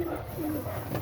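Pigeons coo softly and steadily nearby while being fed a mixed grain stock, a low repeated cooing close to the listener with no talk.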